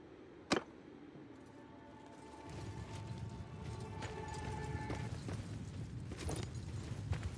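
Cavalry horse hooves in a Warhammer Old World battle game, a steady rumble of many hooves building up and continuing, with a sharp crack near the start and faint battlefield clatter.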